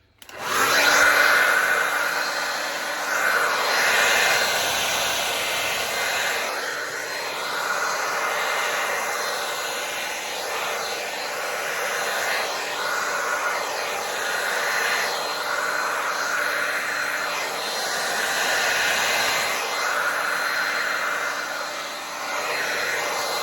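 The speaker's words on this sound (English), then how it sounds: "we take our hair dryer, well, I'm gonna use a hair dryer" A hair dryer blows with a steady, loud whooshing roar that wavers slightly as it moves around, continuous for the whole stretch with no voices.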